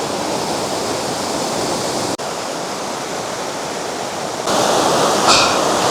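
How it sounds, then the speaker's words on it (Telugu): A waterfall in Araku roars as a continuous broadband wash of falling water, loud and steady throughout, with a brief dip partway and a slightly brighter surge near the end, with no voices. "వాటర్ ఫాల్ చూడండి ఎట్లా పడుతూ ఉంటుందో"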